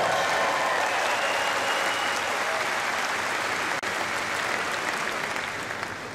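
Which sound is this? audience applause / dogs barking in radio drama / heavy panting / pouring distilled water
audience applause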